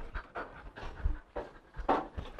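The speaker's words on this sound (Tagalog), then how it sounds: "So, kung mapapansin nyo, tumatahol siya ng kusa. Kasi excited na siya" A Belgian Malinois pants in rapid, excited bursts while waiting for food, with short barks or huffs mixed in, close and fairly loud with no talking.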